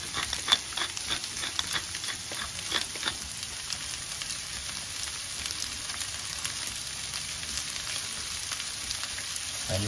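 Pork loin sears in olive oil on a Kamado Joe grill, giving a steady, close sizzle and crackle of frying with scattered pops and no talk throughout.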